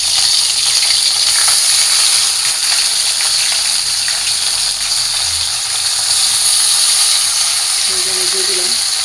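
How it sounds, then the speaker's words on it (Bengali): Hilsa fish fritters wrapped in bottle gourd leaves sizzle steadily in hot oil in a pan over low heat, a loud continuous hiss and crackle that hardly varies, with a brief voice near the end. "কড়াইয়ের মধ্যে তেল দিয়ে দিছি। তো এখন বড়াগুলো দিয়ে দিব।"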